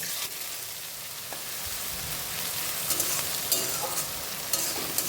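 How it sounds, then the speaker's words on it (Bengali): Four medium chopped onions hit hot oil tempered with cinnamon, dried red chillies and bay leaf, giving a steady, close, loud sizzle with scattered spatter crackles and occasional spoon clicks; no one speaks. "ফোড়ন থেকে একটা দারুণ গন্ধ ছাড়লে এখানে দিয়ে দেবো চারটে মিডিয়াম সাইজের পেঁয়াজ কাটা"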